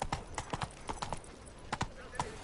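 A horse's hooves clip-clop on the streets of Beauclair in The Witcher 3: Blood and Wine, a steady, moderately loud trotting rhythm heard alongside speech.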